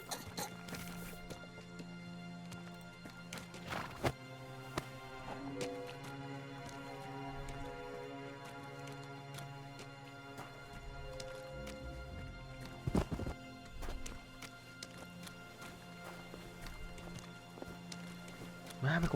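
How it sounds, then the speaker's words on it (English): Horses in the medieval game Kingdom Come: Deliverance II, hooves clip-clopping steadily with an occasional neigh, set against background music and game ambience while a voice talks over it. "The horses are here."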